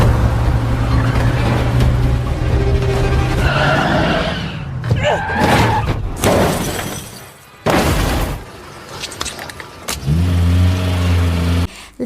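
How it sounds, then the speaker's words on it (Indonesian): A film car chase ends as a car skids with screeching tires and revving engine, then crashes and flips over with loud shattering glass and crunching metal impacts, followed by the engine roaring again. "akhirnya Lino dan Julia berhasil membuat mobil Areskin menabrak dan terbalik."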